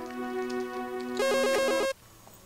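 A phone ringtone in a My Little Pony game, Rise of the Clockwork Stallions, plays a steady tonal melody that turns into a brighter, louder warbling ring before cutting off abruptly, with no talking.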